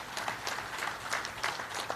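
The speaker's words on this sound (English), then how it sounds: "let's give them a lot of applause also" A crowd at a presidential healthcare programme launch in Kenya claps steadily, a dense wash of applause that holds at the same level for the whole stretch.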